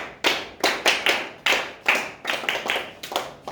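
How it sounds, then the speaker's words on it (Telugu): A Bharat Scouts and Guides team claps in unison, a steady series of about a dozen sharp, close, rhythmic claps with no talk over them. "Claps go."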